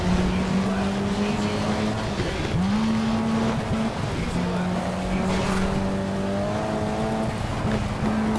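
Rally cars race in Sega Rally, including an Audi Quattro and a Lancia, with a continuous whining engine tone that rises and drops through gear changes and corners, and someone talks over it.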